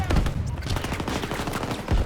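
Rapid shotgun gunfire in a first-person video game, used like a sniper weapon: a dense string of loud, close blasts in quick succession, with a heavy boom at the end.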